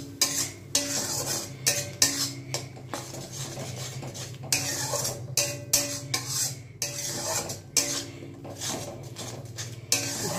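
Fish curry masala for koi fish is stirred in a metal pan, a spoon scraping and clinking against the sides in steady irregular strokes with a soft sizzle beneath, close and fairly loud.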